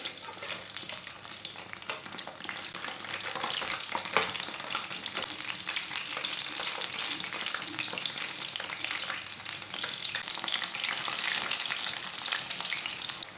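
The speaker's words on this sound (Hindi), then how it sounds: "ये वाले पकोड़े हमारे भी फ्राई हो चुके हैं।" Capsicum (bell pepper) pakoras frying in hot oil make a dense, continuous crackling sizzle, heard close and steady throughout with no speech.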